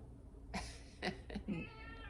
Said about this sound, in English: my cats are fighting